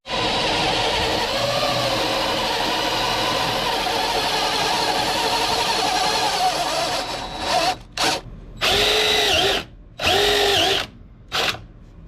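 A power drill boring holes for rivet nuts in an aluminum Jeep JL fender whines steadily and loudly for about seven seconds, then cuts into several short, stuttering bursts with gaps between them.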